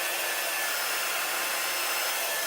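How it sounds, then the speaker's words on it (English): Blow dryer running on its cool setting, a steady broadband airy rush that holds constant and loud from start to finish with no pauses. "A blow dryer works on your cool setting."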